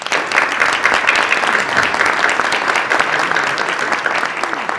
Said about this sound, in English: Once again, a round of applause for our students.